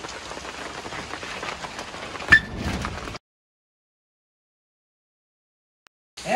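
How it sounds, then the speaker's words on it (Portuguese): Steady rain falls on a surface for about three seconds, dense and fairly close with one sharper knock in the middle, then stops abruptly into silence. "tu pega essa chuva no meio do caminho"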